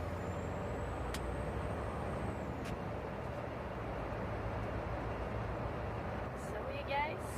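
A truck cab rumbles with heavy low engine drone throughout, a steady road roar, with a couple of sharp high hisses of air brakes releasing early on and a brief knock near the end.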